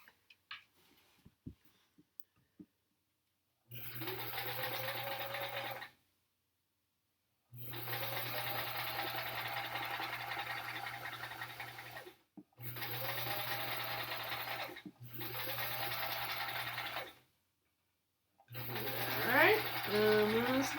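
A sewing machine stitches a quilt block in four short bursts of steady, fast whirring with pauses between them, fairly close, with light handling noises.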